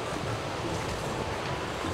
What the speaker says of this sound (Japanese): やっぱ波の音聞いたら落ち着きますね。